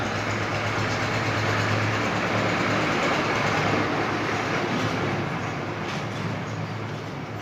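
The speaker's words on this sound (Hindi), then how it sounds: "ट्रैक्टर की आवाज" A steady, loud engine rumble drones continuously with broad noise, holding level and easing slightly toward the end, like a tractor going by outside.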